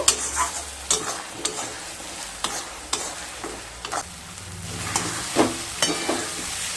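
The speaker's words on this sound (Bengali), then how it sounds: "এবার হাই স্টিমে ভাজা ভাজা করে নেব" Chopped onions and slit green chillies stir-fried on high heat, with a sugar pinch added: a steady close sizzle under repeated spatula scrapes and knocks against the pan, and no voices.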